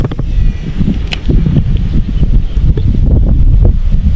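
Strong wind buffets the microphone outdoors, a loud, continuous low roar with gusty rumbling throughout and no voices.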